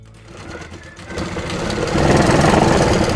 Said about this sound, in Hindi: ऐसे लगाई मैंने सिलाई